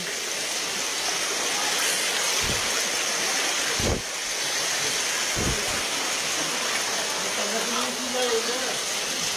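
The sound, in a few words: flood water rushing in a river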